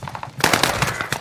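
OTS 9 submachine gun firing in Warzone on Fortune's Keep, a short rapid burst of loud shots, with a few lighter pops just before it.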